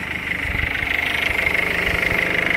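A car engine idles during a DPF cleaning without removal, a steady close rumble with a regular pulsing beat and a constant higher whine above it, with no voices.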